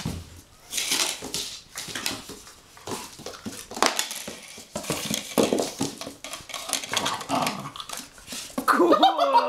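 A puppy plays roughly, growling and whimpering in short bursts, with scuffling and clinking like a bowl or metal dish knocked about nearby; a brief voice may be faint in the background.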